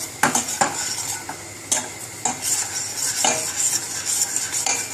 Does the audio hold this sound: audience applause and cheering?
no